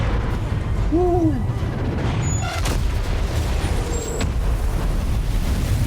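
A bomb bursts in water in the video game Uncharted 4, a dull low boom rising briefly over steady loud background noise, with hooting tonal game sounds just before it.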